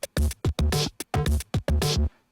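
An unfiltered drum loop from a beat breakdown plays with full, bright highs and a punchy low end, repeating a short choppy pattern of hits across about two seconds with no talking.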